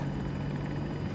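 Attack helicopter in a military video game (TOW-missile crew), its rotor and turbine drone sustained and steady, loud and close with a strong low hum throughout.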